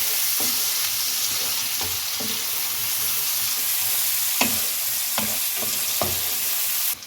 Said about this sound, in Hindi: अब आलूओं को इसमें भून लें।